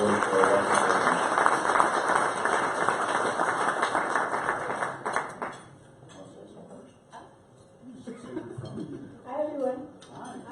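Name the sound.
round of applause at Rotary Club meeting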